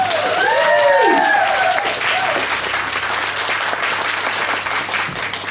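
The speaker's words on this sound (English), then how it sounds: "a big round of applause for Jerome!" Warm audience applause welcoming psychic medium Jerome at an evening event in Leighton Buzzard, steady continuous clapping from a room of people, with a brief voice calling out at the start.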